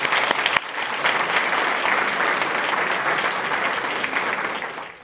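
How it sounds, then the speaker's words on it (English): A round of applause for a program honoree, loud and sustained from a crowd, dense even clapping that opens with a few sharper claps and fades slightly at the end. "Give him a round of applause"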